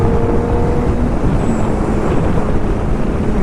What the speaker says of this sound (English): all we're going to do is just accelerate up to 100